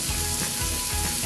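Onion fries in a pan for fish curry with eggplant, a brief steady close sizzle with faint rhythmic stirring scrapes and no voices.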